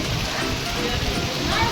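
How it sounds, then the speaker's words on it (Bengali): Rain falls steadily during a thunderstorm, a dense, even hiss with no breaks that fills the short stretch from start to finish. "আবার একবারে বৃষ্টির মধ্যে পড়েছি আর মেঘ ডাকছে বিদ্যুৎ চমকাচ্ছে"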